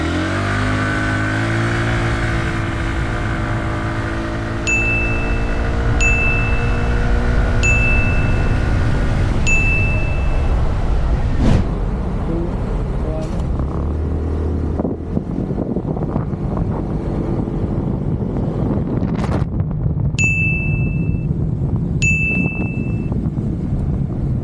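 A Zontes 150X and a Honda PCX 160 scooter accelerate toward 60 to 80, the engine droning and rising in pitch under heavy wind buffeting, with several bright electronic beeps chiming over the ride.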